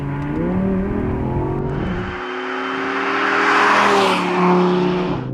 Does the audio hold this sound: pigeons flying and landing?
no